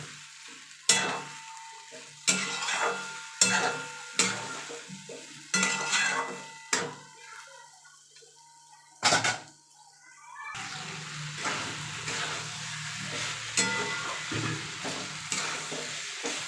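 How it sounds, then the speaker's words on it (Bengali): Potatoes, soybean chunks and pointed gourd sautéed in spices in a pan, a steady sizzle broken by repeated scraping stirs in an irregular rhythm, close and with no talking. "আমি আলু সোয়াবিন আর পটল একসঙ্গে মশলাটার মধ্যে দিয়ে দিয়েছিলাম, দিয়ে কষিয়ে নিলাম"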